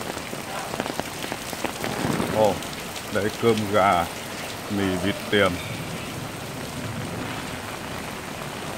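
Steady rain pours on a Saigon street in a continuous hiss of drops hitting surfaces, while someone talks briefly in the foreground over it.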